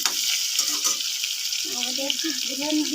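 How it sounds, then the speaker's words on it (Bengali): Potato pieces frying in hot oil in a pan, a steady close sizzle with bubbling crackle throughout, and a soft voice underneath at moments. "আলুটা একটু লাল করে ভেজে তুলে নেব।"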